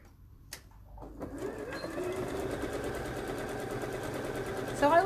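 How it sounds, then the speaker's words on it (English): A sewing machine stitches a seam on a garment, starting quietly and settling into a steady, fast mechanical whir close by that runs to the end. "And stitch my seam."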